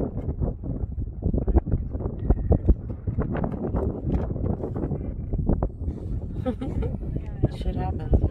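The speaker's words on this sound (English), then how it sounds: "The wind's picking up." Wind gusting across open desert sand dunes, a rough, buffeting rush that fills the whole stretch at steady strength, with talk over it.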